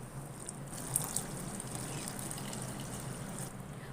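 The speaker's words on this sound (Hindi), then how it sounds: "अब मैं इसमें 1 किलो दूध डाल दूंगी" A kilogram of milk is poured into carrots cooking for gajar halwa, a soft, steady liquid trickle and splash that runs faintly and evenly throughout, with no talking.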